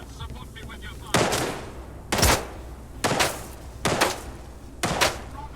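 Gunfire in the S.T.A.L.K.E.R. 2 video game, five loud sharp bursts of shots spaced about a second apart over a low background rumble.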